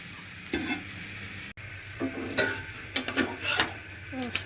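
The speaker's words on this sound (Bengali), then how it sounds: "আলু ভাজিটা হয়ে আসছে।" Potato bhaji sizzling and being stirred in a pan, with soft scraping strokes and a few clinks over a steady quiet fry, close by.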